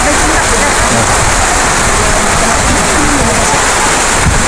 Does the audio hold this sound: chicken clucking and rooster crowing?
no